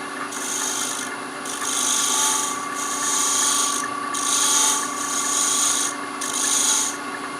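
Spindle gouge cutting a spinning wooden box on a lathe, a rhythmic rasping hiss that swells and fades in repeated passes over the lathe's steady hum.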